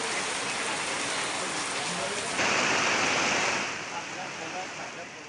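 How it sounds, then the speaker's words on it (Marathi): Heavy monsoon downpour in Nandurbar, a dense roaring hiss of rain pounding surfaces, loud and continuous, briefly swelling stronger midway before easing slightly. "आज सकाळपासूनच नंदुरबारमध्ये मुसळधार पावसाने हजेरी लावली"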